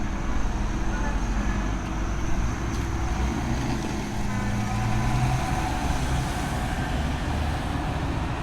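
A Renault tractor rumbles steadily on a Christmas charity tractor run, its engine a dense, continuous low drone that stays close and loud throughout, with other traffic noise mixed in.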